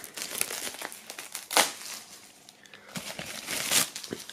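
Plastic shrink-wrap foil crinkles and tears as it is pulled off a newly released vinyl record album, coming in several close, sharp bursts with brief pauses between them and no talking.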